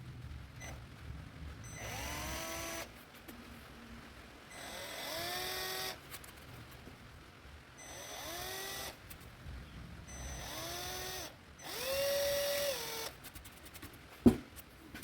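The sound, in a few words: small drill bit drilling holes in Jeep XJ dashboard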